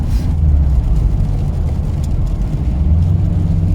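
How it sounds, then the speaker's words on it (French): A deep, steady engine rumble fills the cabin of a moving 2009 Subaru Impreza WRX STI with a 2.5-litre four-cylinder boxer engine, low and droning throughout with road noise beneath it. "le bloc moteur est bien présent dans l'atmosphère de la voiture"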